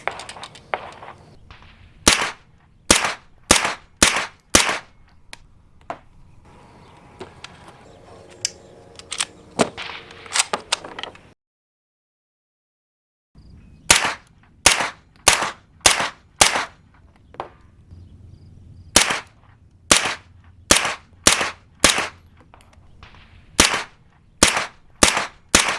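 9mm pistol shots fired through an Otter Creek Labs Universe-36 suppressor with a vented end cap, loud sharp reports in quick strings, a silent gap midway, then two more rapid volleys.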